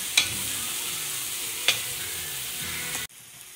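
Carrots frying in a pan for pansit, a continuous close sizzle marked by two sharp clinks of a utensil, before the sound cuts off abruptly near the end.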